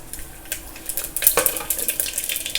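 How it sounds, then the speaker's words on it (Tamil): Tamarind water poured into a hot pan of tempered mustard and fenugreek seeds, a close splashing, sizzling wash with a few clinks of the vessel, no talk. "இந்த புளி ஜலத்தை விட்டுன்ட்டேன்"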